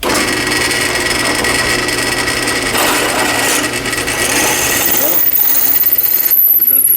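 A letter J drill bit boring a hole through a wooden pen blank, a steady loud grinding and rubbing drone that runs without a break and thins out near the end.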